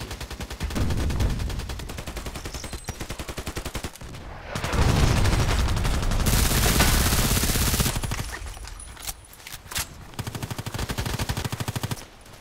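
Scorpion EVO submachine gun fire in the shooter game Contract Wars, rapid full-auto bursts separated by short pauses, with a longer sustained stretch of heavier gunfire mid-clip.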